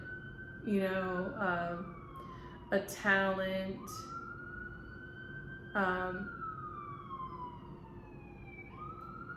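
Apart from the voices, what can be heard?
emergency vehicle sirens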